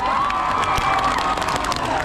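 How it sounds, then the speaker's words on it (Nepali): Festival crowd at a Nepal Festival in Tokyo, Japan, cheering and shouting loudly and continuously, with scattered clapping mixed into a dense, sustained roar throughout. "एकचोटि आफ्नै लागि जोरदार ताली बजाउनुहोस् त"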